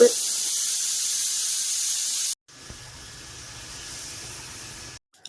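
A pressure cooker boiling potatoes lets off a loud, steady jet of steam hissing, then it stops abruptly, leaving quieter background noise.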